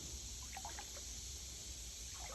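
A creek trickles and dribbles softly over privet roots, with faint intermittent bubbling plinks over a steady low wash of flowing water and no voices.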